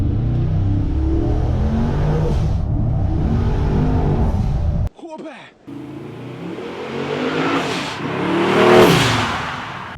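A twin-turbo pro-touring Chevrolet C10 truck pulls hard in second gear, its loud engine roar sustained before a brief drop during the shift, then building again to a peak as it accelerates.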